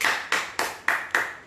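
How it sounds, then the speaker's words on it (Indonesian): A church congregation clapping together in unison, five sharp, loud claps in a steady rhythm with short reverberant tails between them in a resonant worship hall. "Kasih tepuk tangan dulu saudara."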